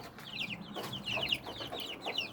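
Week-old Rhode Island chicks and Muscovy ducklings at feeding time, a chorus of high, rapid peeping and chirping calls repeating steadily at close range over a soft background.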